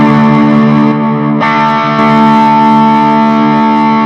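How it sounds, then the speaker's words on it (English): A loud, sustained electric guitar chord pushed through a white boost pedal after a Tube Screamer, ringing steadily, then restruck once partway and held to the end. "That's a tube screamer, so we've gone a bit louder. This is a white boost."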